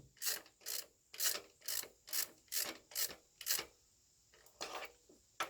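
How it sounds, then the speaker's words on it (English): A spark plug socket works on a Jeep Compass engine, giving a series of rhythmic rasping ratchet strokes, about ten close, distinct pulses with brief gaps between them. "I have a spark plug socket that does not have the rubber thing"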